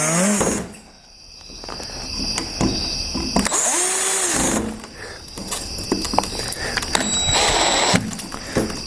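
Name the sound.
power drill driving back screws into a sliding glass door lock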